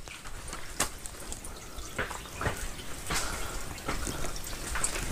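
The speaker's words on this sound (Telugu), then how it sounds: "ఎంత నీళ్ళు కోత కొట్టుకొని వచ్చినాయి" Water trickles and drips into a temple tank, with scattered distinct drops over a faint, continuous flow, quiet and without voices.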